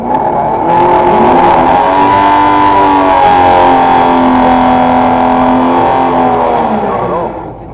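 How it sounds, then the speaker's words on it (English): A drag race car with big-block mountain motor power launches off the water box, a loud, continuous roaring engine note rising in pitch and sustained close by for several seconds before cutting off at the end. "The car just ripped up, shot it forward off the water box."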